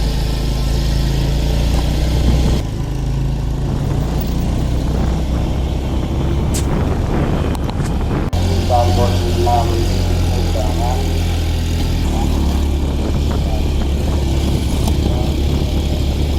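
Motorcycle taxi (ojek) ride from a base camp toward a hiking trailhead on Mount Bismo, Wonosobo: a steady mid-pitched engine drone with low rumble runs continuously, loud and close, with people talking over it.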